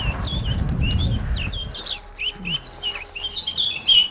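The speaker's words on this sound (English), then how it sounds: "They hear what they're looking for, the song of a bird." Bright chirping songbird notes played from a speaker in trees in Cyprus repeat in quick phrases, clear and fairly close, over a low rumble that fades after the first seconds.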